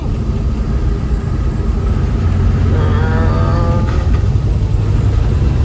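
Steady broadband rumble and wind roar from inside an older pickup truck with a newly installed engine, driving fast on a road, loud and continuous with no talking.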